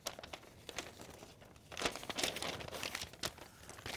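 A paper instruction leaflet from a Fujifilm FinePix XP80 camera box is folded up by hand, giving close, soft crinkling and rustling bursts with no talking.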